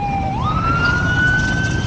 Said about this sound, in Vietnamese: Xe này là xe cảnh sát địa phương cả nhà.